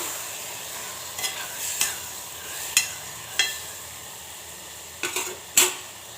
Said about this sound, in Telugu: ఇప్పుడు ఆయిల్లో వేగిన తర్వాత టమాటా ముక్కలు వేసేసుకొని మరొకసారి కలిపేసుకోవాలి